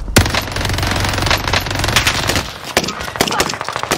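Call of Duty: Warzone gunfire, loud and close, in rapid automatic bursts with dense cracking shots that break off briefly and then start again.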